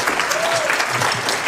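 An audience at a jazz jam-session clinic applauds a high-school piano student after his introduction, a brief, dense burst of clapping.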